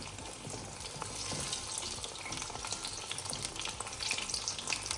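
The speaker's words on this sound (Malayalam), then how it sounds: "നല്ലോണം പൊങ്ങി വരുന്ന പഴംപൊരിയാണ്" Pazhampori banana fritters frying in a pan of oil, a steady bubbling sizzle with fine crackling spatters, moderately close and uninterrupted.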